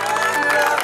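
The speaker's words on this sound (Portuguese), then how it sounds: "Uma salva de palmas, pessoal." Guests at a gender reveal party in São Paulo's north zone clap together in a brief, steady burst of close applause that fills the room, with a faint murmur of voices underneath.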